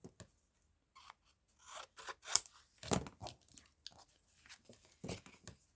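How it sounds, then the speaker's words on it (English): Scissors trim the edges of paper images cut from a children's book, a few short snipping and crisp paper-cutting bursts spaced out across a quiet tabletop, close and fairly soft with no talking. "So, just trimming off those edges."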